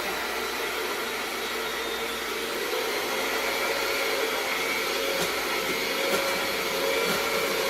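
An electric mixer whirs steadily through gluten-free sugar cookie dough as kids bake, a constant, fairly quiet buzzing hum with no talk over it.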